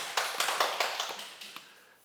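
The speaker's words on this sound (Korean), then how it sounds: "큰 박수 부탁드립니다" A lecture audience gives a few light, scattered claps, quiet and fading over a couple of seconds.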